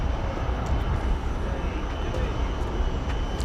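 Qantas Boeing 787-9 Dreamliner at DFW Airport, a broad steady roar of jet engines rumbling throughout at moderate distance, with a person talking over it.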